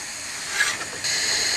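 Steady close hiss of a pumpkin gözleme laid on a hot saç griddle, a broad sizzle that swells briefly and then holds constant, with no talking.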